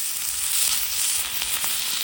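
Sea fish fries in hot oil, cooked village style, giving a dense, continuous sizzle with bright crackle. It sounds close and even throughout, with no talking.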